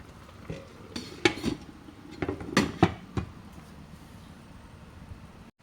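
Clanking metal on metal as a lid is set onto a pot of simmering paksiw na bangus, a handful of sharp knocks and rattles clustered in the middle, close and fairly quiet over a low background.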